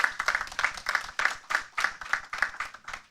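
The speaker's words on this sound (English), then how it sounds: "Give yourselves a round of applause." Students and teachers gathered for a high school debate competition final clap together in a rhythmic, pulsing round of applause, loud and close, with roughly a dozen even bursts.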